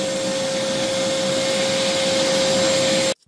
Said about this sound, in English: I'm using my shelf vac to dust it off.